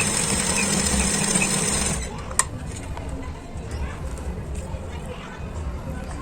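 A sewing machine stitching seams on a baby girl's frock runs in a steady loud whir for about two seconds, then stops, leaving quieter room noise with a small click and faint handling sounds.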